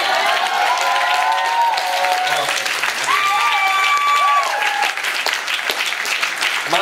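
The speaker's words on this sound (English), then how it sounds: "Can I get a big raucous applause and all of that?" Loud, dense applause and crowd noise from the audience at the Vancouver Poetry Slam, continuous throughout with whoops and cheering mixed in.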